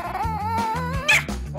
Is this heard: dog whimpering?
yes